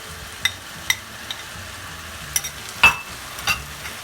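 Green spring onions and peppers stir-fry in a pan under a low continuous sizzle, punctuated by several quick spatula clicks and one louder scrape, all close and without any talk.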